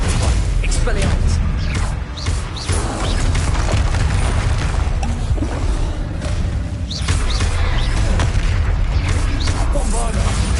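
Bombarda spell blasts in Hogwarts Legacy crash out as loud booming explosions amid dense, continuous spell-combat noise, with a voice heard among the din.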